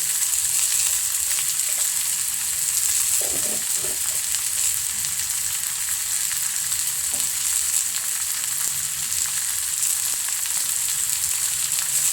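Potato with turmeric powder sizzles steadily in a hot pan, a loud, even hiss of frying that runs throughout with a few faint stirring knocks and no talking.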